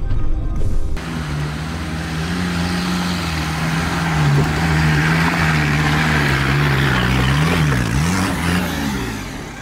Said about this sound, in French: Le moteur s'étouffe tellement ça grimpe.